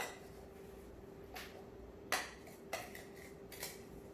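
A spoon stirring chocolate milk powder into milk, a few quiet metallic clinks and scrapes against a glass, spaced unevenly over a faint background hum.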